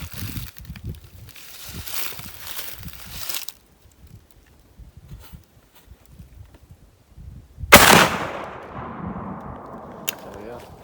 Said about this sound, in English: That's like the loudest noise I've ever heard from a shotgun.